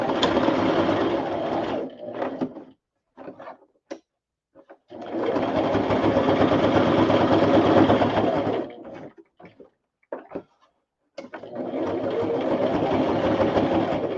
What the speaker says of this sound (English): And then what I do is I just keep sewing.